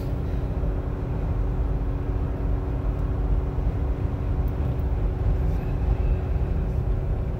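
Jeep Gladiator engine droning at high revs while towing a load, overheating oil, a steady loud broadband roar throughout with no distinct changes.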